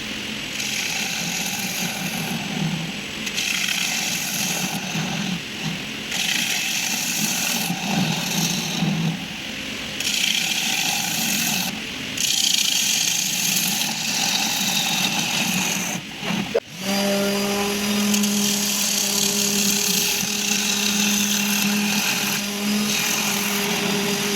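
Wood lathe rough turning a coloured plywood bowl: a continuous whirring, chattering cut with rhythmic swells, a brief dip near the end, then a steadier tonal spin-down hum.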